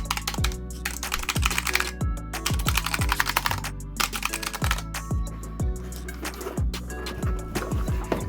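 Typing on a Razer Huntsman Elite keyboard gives steady, close clacking keystrokes in a brisk, uneven rhythm with no other sound.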